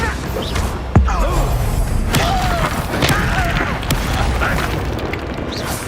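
In the Hogwarts Legacy video game, an Expelliarmus spell goes off as a sudden heavy boom and thud. Whooshing magical sweeps and clatter follow, over a dense, noisy battle mix.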